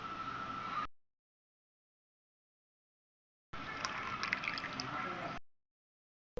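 Neem-leaf water is poured into melted soap in two short bursts, a soft splashing trickle separated by a stretch of silence.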